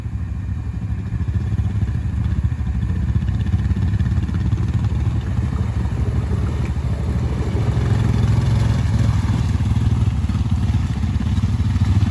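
A 2020 Honda Rubicon ATV in two-wheel drive pushes through thick mud. The engine gives a steady, rough, low rumble with some clatter and stays loud and close throughout.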